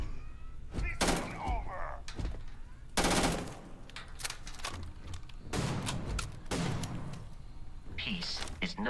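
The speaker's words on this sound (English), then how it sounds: "Trying to shoot through a window." Gunfire in the space game Starfield comes in several loud bursts, some rapid like automatic fire and others single heavy shots, with players talking between them.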